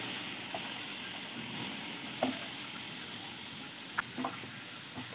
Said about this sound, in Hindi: पानी में हमें गुड़ को पकाना है।